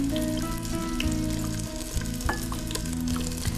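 Onions frying and sizzling in a pan as they are stirred for sweet and sour chicken, a steady close sizzle with scraping stir sounds throughout and no talking.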